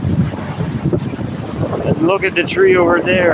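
Gusty wind buffeting the microphone outdoors at icy Niagara Falls, rumbling low, while a person speaks over it.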